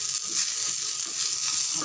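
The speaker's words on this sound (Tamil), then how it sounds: "இப்போ நம்ம எடுத்து வச்சுருக்க கொத்தமல்லி இலையை அப்படியே போட்டு வதக்கணும்" Coriander leaves sauté in a hot pan for kothamalli thuvayal, giving a steady, close sizzle with soft stirring crackles and no talk.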